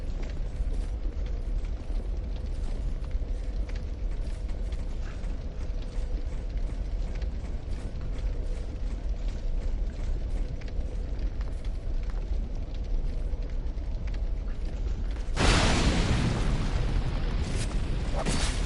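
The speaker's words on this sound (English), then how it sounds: "that stun off that explosion was nuts" Explosion in Dark Souls 2: after a long stretch of steady, rumbling roar, a sudden loud burst hits near the end and its rough blast lingers as a broad wash.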